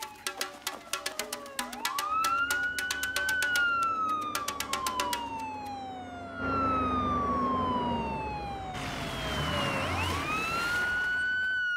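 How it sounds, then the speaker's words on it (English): A loud wailing ambulance siren rises and falls in long sweeps, punctuated by rapid rhythmic horn-like blasts, close and continuous over rumbling traffic. "You hear that? It's the ambulance."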